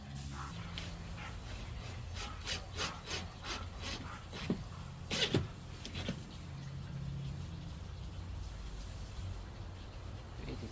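Countersinking pre-drilled screw holes in wood while framing bunk windows in a Sprinter van conversion; a run of short, grinding drill bursts with a louder cluster midway, steady low background hum throughout, no talking.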